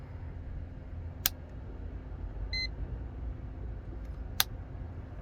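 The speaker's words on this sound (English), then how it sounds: "I'll do it close as you can hear the beep." Two short, sharp beeps from a Digitech autoranging digital multimeter about three seconds apart, close by, over a steady low background hum, with a faint tonal chirp between them.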